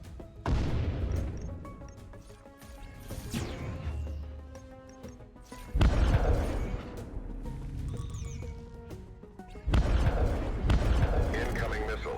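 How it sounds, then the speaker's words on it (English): Missile launches and impacts in the deckbuilding space game Breachway, heard as three heavy booming blasts spaced several seconds apart, each trailing into crackling rumble, with talk over the top. "Missile launched."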